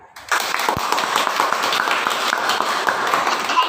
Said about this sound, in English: Give a round huge of applause to Ritya.